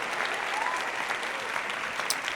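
Audience applause from a stream crowd, a steady wash of clapping holding at an even level throughout, without talk over it.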